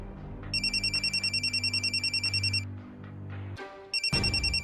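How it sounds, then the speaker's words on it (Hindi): A telephone rings in repeated electronic trilling bursts, clear and fairly loud, with a low musical score humming beneath it; a second ring starts again after a brief pause. "हाँ देख, फेयर बैनर्जी दा फोन। स्पीकर में डालिए"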